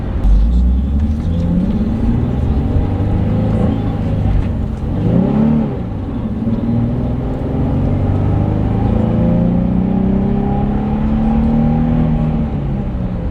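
A 2004 Nissan 350Z convertible drives along, its engine making a loud, steady low drone with gear-linked pitch rises and falls over continuous road rumble.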